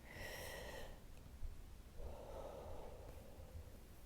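Breathing during a Krav Maga class: faint, slow inhales and exhales with a soft snort-like breath, heard against a steady low room hiss.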